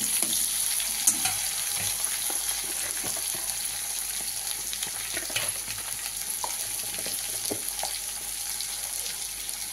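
Chopped tomato and ginger paste crackle and sizzle in a pan, a continuous close frying hiss punctuated by occasional stirring clicks and scrapes, with no voices.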